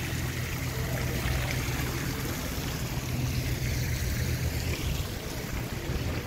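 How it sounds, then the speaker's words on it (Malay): Water from a waterfall at the Putrajaya promenade rushes in a steady, broad wash, a continuous roar with no distinct events. "Ni orang kata air terjun dia lah"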